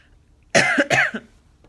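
A single harsh cough in two quick bursts, close and loud, followed by quiet.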